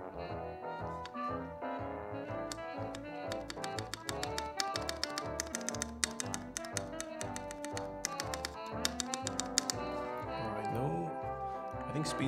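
Bursts of crisp keystrokes from a white and brass Keycult No.1 60% mechanical keyboard, clicking in quick runs and pauses, close and fairly clear over steady background music and a voice.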